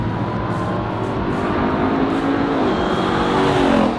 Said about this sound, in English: About 702 horsepower, who the f knows the amount of torque, and a goddamn Hellcat engine